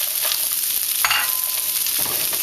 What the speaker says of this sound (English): And you can hear the sizzling.